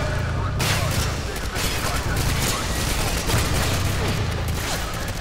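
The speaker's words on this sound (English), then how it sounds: "He's in here, open fire!" Dense, sustained automatic gunfire from a Call of Duty: Modern Warfare 2 breach-and-clear firefight, loud and continuous throughout with layered bursts and booms.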